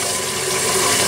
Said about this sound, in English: And then I'm gonna add just regular old tap water